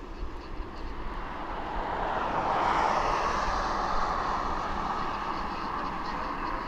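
A TUI airliner takes off at East Midlands Airport with a distant engine roar that swells to a broad rumble and then holds steady.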